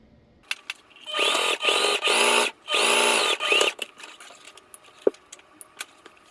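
Sewing machine topstitching over the main fabric of a simple bag, running in four steady whirring bursts separated by short pauses, close and clear, followed by faint handling clicks.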